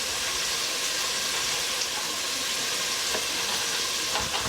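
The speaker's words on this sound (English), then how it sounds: "while that bacon's rendering down" Bacon renders in a pan for smoked brisket chili, a continuous close sizzle with fine spitting crackles and a few brighter pops, unbroken and without talk.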